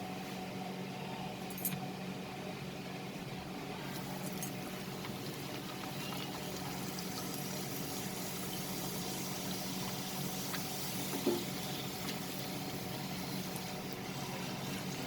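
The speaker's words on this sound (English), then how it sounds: "Now let's fry one small puri and see." A small puri frying in hot oil gives a soft, steady bubbling sizzle that stays even and fairly quiet throughout, with a few faint clicks and no voices.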